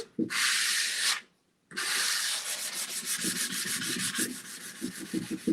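Hand sanding a painted wooden bedside table, steady scratchy rasping strokes up close, pausing briefly before continuing in quicker back-and-forth rubs.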